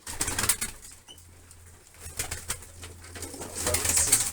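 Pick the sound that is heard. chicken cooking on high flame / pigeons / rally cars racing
pigeons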